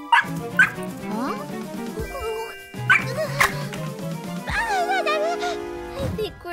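Short yips and barks from a small puppy, a few bursts spread through the clip, mixed with animated cartoon voices and background music.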